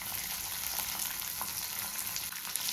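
Green chillies, small ginger pieces and raw garlic cloves fry in oil in a pan, giving a steady, close, dense sizzle that holds level throughout with no voices.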